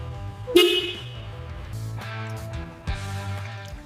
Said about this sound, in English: Battery connected, lights flash, horn honks, she's alive.